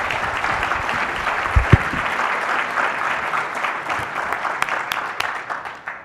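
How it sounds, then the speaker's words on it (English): A crowd applauds steadily for several seconds, a dense wash of clapping that holds fairly even before tapering slightly at the end. "let's give them a big round of applause"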